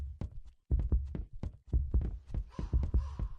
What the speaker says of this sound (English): the whole time you have some heartbeat going off with the dude chasing you